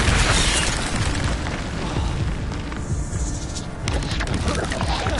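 Spell effects from the Hogwarts Legacy video game, including the Incendio fire spell, roar in as dense, continuous booms and fiery bursts that fill the whole stretch at a loud, steady level with no clear break.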